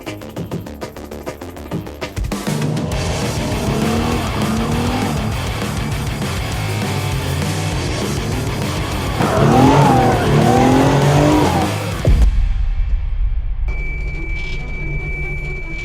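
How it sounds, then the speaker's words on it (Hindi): A Toyota JZX90 drifts with a loud engine roar and rising, wavering tire squeal, building to a peak of screeching before cutting off abruptly, followed by a quieter idle with a faint whine. "पंखा लगा के 2-4 ड्रिफ्ट शॉट लेते हैं"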